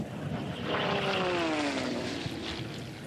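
A Lancair Legacy kit airplane races past at the Reno Air Races, its propeller engine a loud sustained drone that swells and pitches downward as it passes close by, heard alone.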